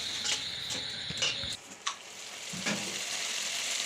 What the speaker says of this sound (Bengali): এই নাড়ছি।